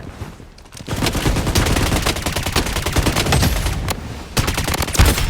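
Rapid, loud sniper rifle gunfire bursts from the video game Blood Strike, with sharp repeated shots crackling over a dense, continuous battle din.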